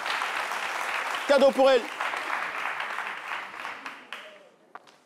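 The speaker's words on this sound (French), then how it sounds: "On peut l'applaudir." Applause from a television studio audience fills the room, a dense, steady clapping that fades gradually toward the end while a host speaks briefly over it.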